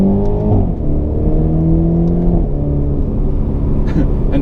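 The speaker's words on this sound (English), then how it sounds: "You can hear crackles and bubbles, you know, when you lift down, when you lift up." A BMW Z4 sDrive30i M Sport engine revs loudly and steadily, its pitch rising and falling between gear-like shifts, with a constant rumbling drone and faint burbles; distinct crackles are not clearly separated.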